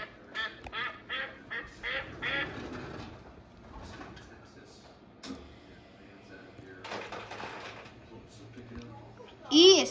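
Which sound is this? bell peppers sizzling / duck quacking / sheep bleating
duck quacking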